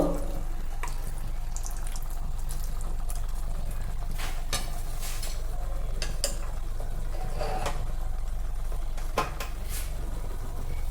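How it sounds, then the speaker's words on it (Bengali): Hot water poured into chicken curry in a pot, a steady close splashing flow lasting the whole stretch, with occasional clinks of utensils and no talk. "এই যে জলটা কিন্তু আমি এতে অ্যাড করে দিলাম"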